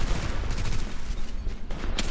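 Dense gunfire from a firefight in the video game The Division's Dark Zone, with rapid overlapping shots and bursts crackling continuously and loudly throughout, and no clear talk over it.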